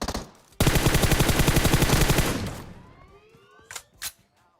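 M16 gunfire in Battlegrounds Mobile India: a loud, sustained rapid burst of automatic shots lasting about two seconds, fading out, then two sharp separate pops.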